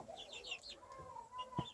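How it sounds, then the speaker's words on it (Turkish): A rooster with his hens and chicks in Çağlarca, Antalya, giving faint clucks and short chirps, with a brief louder cluck near the end. "Horoz ve ailesi"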